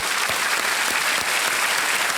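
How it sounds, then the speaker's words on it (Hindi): A studio audience on a Hindi TV quiz show claps steadily in dense, sustained applause, loud and even for the whole short stretch. "एक बार फिर तालियों के साथ उनका स्वागत"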